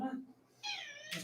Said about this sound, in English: Cat wants to go outside.